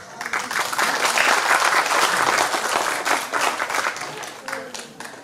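Audience applause at a public event, a dense, steady burst of clapping from a large crowd, close and full, holding for about five seconds before thinning toward the end.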